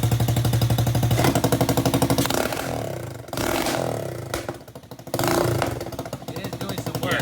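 A modified Power Wheels Ford F200 ride-on truck with a fitted gas engine runs loud and close, a steady buzzing roar with clattering pulses that dips and surges in revs, with no talk over it.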